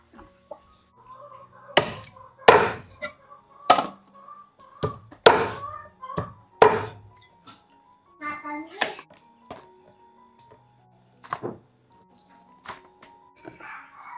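A free-range chicken being cut up with a knife on a board, a series of sharp, irregular chopping thuds spaced a second or so apart, close and clear, with brief quiet voices between.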